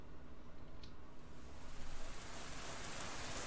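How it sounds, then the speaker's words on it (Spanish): Rain starting to fall in the visual novel game Fatal Force: a soft, steady hiss that swells from faint to a fuller wash of rainfall partway through, with no voices. "Ahí empezó a llover, qué casualidad."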